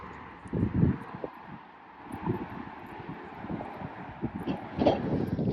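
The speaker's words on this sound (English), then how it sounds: "the wind got too heavy" Strong wind buffets a microphone out in a wide open space, with irregular low rumbling gusts that swell and fade, loudest near the start and again toward the end, with no talking.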